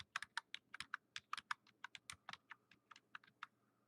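Rapid typing on a computer keyboard, a steady run of sharp, close key clicks at an uneven rhythm for several seconds, fairly quiet and with no voices.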